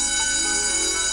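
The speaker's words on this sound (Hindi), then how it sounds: "ये ले अपना बस्ता और स्कूल जा, घंटी बज गई है।" A school bell rings in one continuous, steady electric peal, loud and unbroken throughout with no voices over it.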